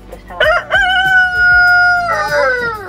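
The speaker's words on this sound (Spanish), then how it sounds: "Ostras, qué gallo, Sofía." A large rooster crows in a village setting, one long, loud, close cock-a-doodle-doo with sustained harmonic tones, preceded by short clucking bursts and rising again at the end.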